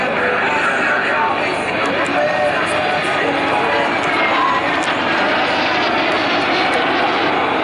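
A jet aircraft of the Breitling Jet Team roars steadily through a flying display at the Bournemouth Air Festival. The engine noise is loud and continuous, with a commentator's voice running beneath it.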